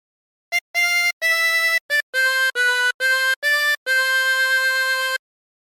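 Chromatic harmonica playing the tune Home on the Range, with clean sustained notes in a series of separate breaths of differing length, close and clear with no talking.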